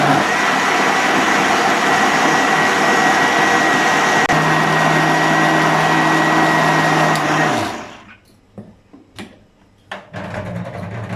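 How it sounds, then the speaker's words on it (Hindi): A blender whirs steadily while blending a mango ice cream mixture, a loud, continuous motor drone that runs for several seconds before switching off, leaving a few faint clinks and rustles. "इसको भी अच्छे तरीके से 1 से 2 मिनट के लिए ब्लेंड कर लेंगे।"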